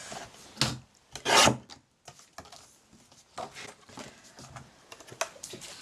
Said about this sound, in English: I've got my A4 size cardstock and I am just going to cut it in